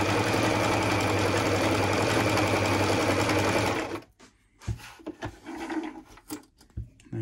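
A Singer M2105 sewing machine runs and stitches at a steady fast whir for about four seconds, then stops, followed by quieter clicks and handling noises of the machine.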